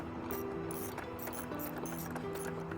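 A socket wrench ratchets on bolts while a Wood-Mizer home owner's sawmill lap sider is assembled, a steady run of quick mechanical clicks close by and fairly quiet, continuing without pause throughout.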